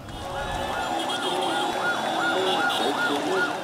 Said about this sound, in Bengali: সাইরেনের শব্দে ভারী হয়ে ওঠে ঢাকা মেডিকেল কলেজ হাসপাতাল এলাকা।